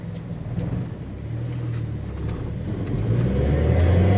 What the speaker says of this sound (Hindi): अभी इस गाड़ी का थोड़ा एक राउंड मार लेते हैं